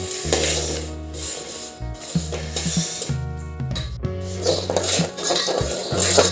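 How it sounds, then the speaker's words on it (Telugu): Jaggery syrup being stirred in a metal pan for Telugu ariselu sweets, with repeated scraping and clanking of the utensil against the pan in an uneven rhythm, close and fairly loud, no talking. "పాకం వచ్చేలాగా వచ్చేదాకా ఇట్లా కరుపుతూనే ఉండాలి"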